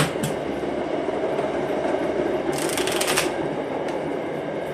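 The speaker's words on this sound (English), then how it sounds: "we'll let the train go by. I live right across the street from the commuter rail" A commuter rail train rumbles past across the street, a steady loud rolling roar with rhythmic wheel clatter and brief hissing bursts, with no talk heard.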